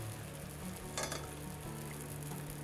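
Appam batter sizzles in a hot appachatti pan, a steady close frying hiss with a brief louder burst as it hits the pan.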